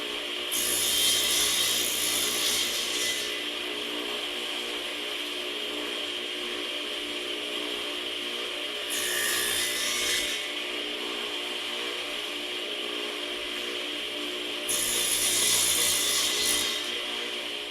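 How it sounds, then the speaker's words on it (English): A Sears Craftsman table saw making shoulder cuts in wood with a miter gauge and stop block, blade whine steady throughout with three louder bursts of cutting, close and without talk. "make shoulder cuts using a miter gauge and a stop block"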